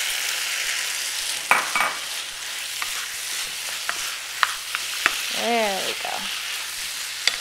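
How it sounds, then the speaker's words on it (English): Pecans being stirred into a thick maple syrup sauce in a pan with the heat off, giving a steady close sizzling hiss with scattered spoon scrapes and clicks, and a brief voice midway. "I'm going to go ahead and mix my pecans in."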